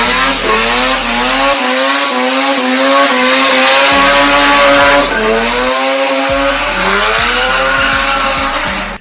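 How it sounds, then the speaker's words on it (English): A Mazda RX-7 FB rotary-engined sports car revs hard and loud, its harmonic whine climbing and dropping repeatedly in a series of quick throttle blips, with no talking. "So here's a clip of an FB RX-7 making some noise."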